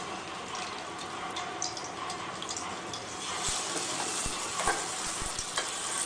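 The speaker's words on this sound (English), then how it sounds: "Heat the clarified butter, also known as ghee. Add the potatoes." Potatoes fry in hot ghee for a sweet aloo halwa, giving a gentle, continuous sizzle, with scraping strokes and a few clunks from stirring later on, close and without talk.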